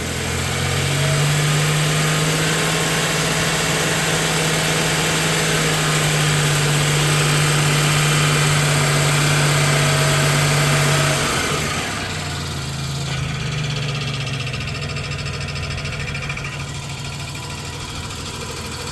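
A 1991 Dodge Grand Caravan engine, abandoned for over 21 years, gives a steady loud idle with a strong low hum. It is briefly revved higher, then settles back down, with no voices.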